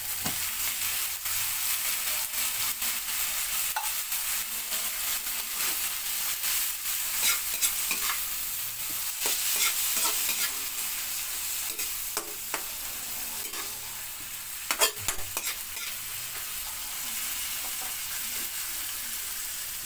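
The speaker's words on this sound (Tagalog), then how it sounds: "At ihalo na natin ang corned beef." Corned beef being stirred in a frying pan for corned beef with cabbage, a steady sizzle with repeated scraping stirs and clinks of the utensil, close and continuous, no talking.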